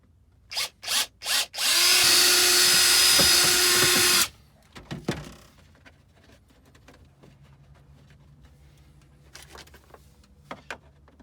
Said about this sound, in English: We have our hole drilled here and cleaned up.